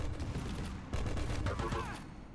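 Rapid weapon fire and explosive impacts crackle through a Quake Champions match, a dense burst of shots and blasts with heavy low rumble, the tri-bolt among them.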